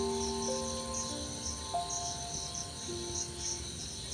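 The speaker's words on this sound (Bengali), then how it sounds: "সন্ধ্যাবেলায় না গ্রাম অঞ্চলে দেখুন ঝিঁঝি পোকা ডাকছে" Crickets chirping in a rural village at dusk, a steady shrill trilling that goes on throughout, soft and even with no voices.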